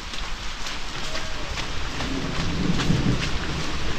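Heavy rain pours continuously in a Konkan village during a sudden downpour, a dense steady hiss close by, with low rumbling thunder swelling in the background.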